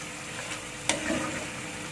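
Pork and potato stew being stirred in a pan, a soft scrape and a brief clink near the middle over a low, steady simmering sizzle, with no talk.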